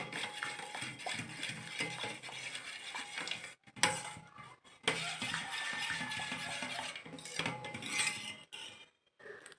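Ubtan soap powders being mixed in a bowl, a steady scraping and stirring clatter that runs continuously, close and fairly quiet, with a couple of brief pauses and no talking.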